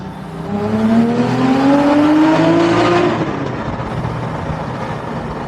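Close, loud naturally aspirated car engine climbs through a single long rev, pitch sweeping upward, then drops back to a steady lower drone as the car slows.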